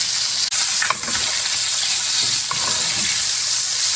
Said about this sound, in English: I'm going to gradually spoon this lemon butter on top of the fish while it's cooking